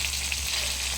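Chicken adobo fries in a pan after its broth has been drained, giving a steady, fairly loud crackling hiss with no pauses.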